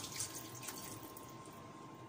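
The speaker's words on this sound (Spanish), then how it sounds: "Y ahora le echamos agua, cubre medio litro" Tap water runs faintly into a cooking pot while a chicken and potato stew is prepared, a soft steady trickle with a few light splashes at low volume.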